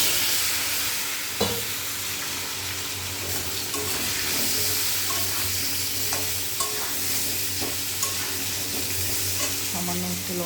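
Potato pieces frying in hot oil after a fish head, a loud continuous sizzle up close with occasional spatula knocks and stirring.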